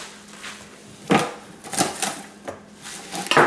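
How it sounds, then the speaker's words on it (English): Knife chopping kale stalks on a cutting board, a handful of irregular sharp chops spaced about half a second apart, close and moderately loud with no talk. "we're going to cut up a few stalks of kale"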